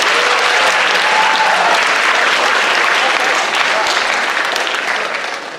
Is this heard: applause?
yes